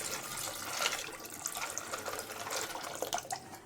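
Water pours steadily into a cooking pot to boil pasta for white sauce pasta, a continuous close splashing rush with no talk.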